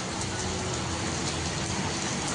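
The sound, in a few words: heavy rain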